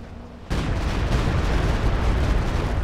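Walking Stuka rocket artillery fires in a Company of Heroes 2 battle, with a sudden loud, dense roar that keeps rumbling and crackling after the launch.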